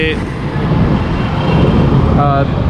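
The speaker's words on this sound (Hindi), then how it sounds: "मैं अभी बाहर जा रहा हूँ, थोड़ा सा ट्रैफिक का शोर होगा" Steady street traffic roars outside a Proton car dealership on Jail Road in Faisalabad, Pakistan, a dense continuous wash of passing vehicles with a brief horn-like tone near the end, fairly loud and close.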